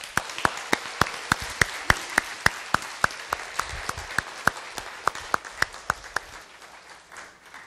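An audience at a church gathering applauds as three guests come to the stage, with loud, rhythmic unison clapping over a bed of general applause that gradually thins and fades near the end.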